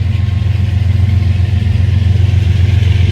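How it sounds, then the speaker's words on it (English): A Union Pacific DPU locomotive on a passing freight train in North Platte, Nebraska, gives a steady, loud, low diesel drone that holds throughout with no voices over it. "I hear an engine. I knew it was a DPU."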